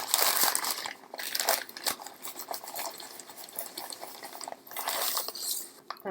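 Powdered sugar poured onto a paper plate, a close, soft crinkly rustling with brief crunchy bursts and short pauses, fairly quiet and alone.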